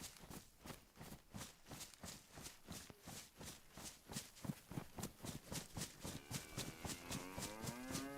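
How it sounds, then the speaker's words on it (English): Steady rhythmic footsteps run through most of the stretch, followed near the end by a cow starting a drawn-out moo in the DayZ video game, the animal fairly distant and no voices present. "Hear a cow."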